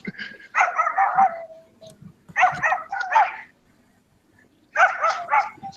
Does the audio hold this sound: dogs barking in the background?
yes